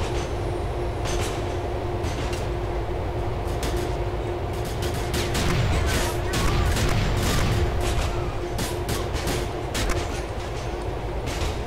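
Train wagon rolling in Grand Theft Auto IV, a continuous rumble of wheels on track with repeated sharp clacks and a drawn-out metallic squeal, and no talking.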